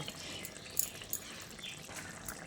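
Water rinsed from a poppy-seed paste bowl poured into a pan of cauliflower curry on low flame, a faint trickling splash with a couple of brief clinks, no talk.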